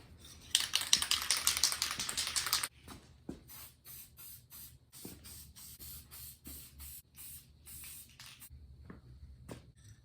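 A close hiss of spray paint applied over painter's tape, one steady burst lasting a couple of seconds, followed by quieter rhythmic clicking and tapping in the background.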